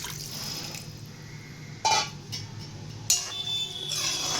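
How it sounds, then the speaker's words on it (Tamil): Tamarind water poured into a frying masala for a spicy dal dumpling kuzhambu, producing two short, close splashing gushes over a faint background hiss. "இந்த ஸ்டேஜில் நம்ம அந்த புளி தண்ணியை ஊற்றிடலாம்."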